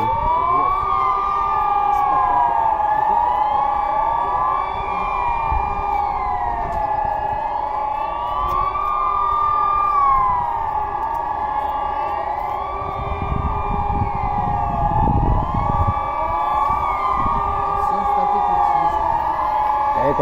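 Swiss emergency distress siren rising and falling in a steady wail with layered tones, loud and continuous throughout, with faint voices underneath.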